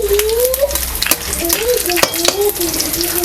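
Vegetables are stirred into a hot, sizzling pot for vegetable biryani. A loud, continuous frying hiss is broken by sharp utensil knocks against the pot, with a faint voice underneath.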